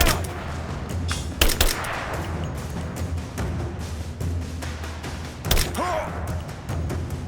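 Repeated gunfire bursts from the video game Rise of the Tomb Raider, loud sharp shots and thuds scattered through a busy battle mix with occasional voices.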